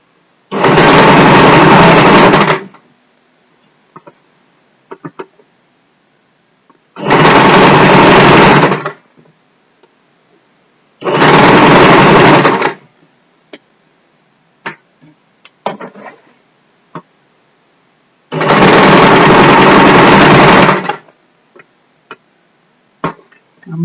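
A sewing machine stitches a sleeve into a garment. Four loud, steady bursts of rapid whirring stitching are separated by pauses filled with faint clicks and handling of fabric.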